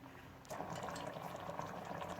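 Water with rice for plov comes to a boil in a pot, a soft bubbling simmer that swells after a quiet start and stays low and close.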